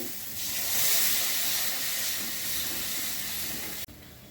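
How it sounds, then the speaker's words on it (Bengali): Water poured into a pan of hot fried spice paste for a Bengali egg curry hisses and sizzles steadily for a few seconds, loud and close, then cuts off abruptly. "মশলা কষানো হয়ে গেছে, জল দিয়ে দিচ্ছি।"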